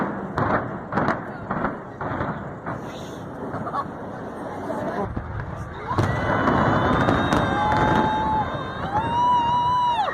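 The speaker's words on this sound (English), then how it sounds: "Here's what the demolition looked like from the back of the crowd." Skyscraper demolition seen from the back of a crowd: a series of sharp thumping blasts in the first half, then a denser rumble with horns and high whistling tones over steady crowd noise and voices.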